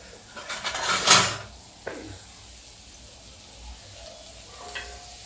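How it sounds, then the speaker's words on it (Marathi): Pineapple pieces frying in a pan, with a sharp burst of sizzling and stirring scrapes early on, then a quieter hiss of oil with a utensil clink as the frying settles. "आता हे फ्राय करायचे."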